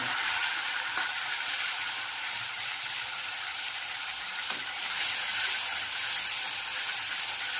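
Tomato tempering with mustard seeds, cumin, fenugreek powder and curry leaves sizzles in hot oil for urad dal, a steady close hiss throughout with no talking.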